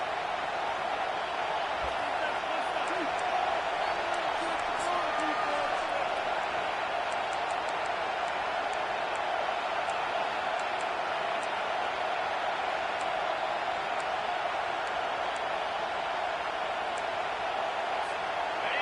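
Stadium crowd roaring steadily at a Tennessee versus Miami college football game, a loud, continuous wash of noise filling the whole stretch without pause.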